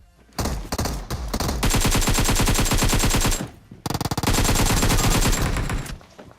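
An AK rifle fires in PUBG Mobile in two long, loud bursts of rapid automatic fire, close and continuous, separated by a brief pause.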